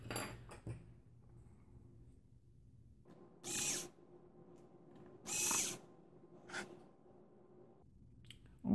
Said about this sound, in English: I should have to take off every single screw on the bottom part